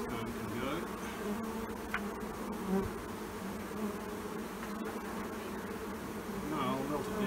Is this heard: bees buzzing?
yes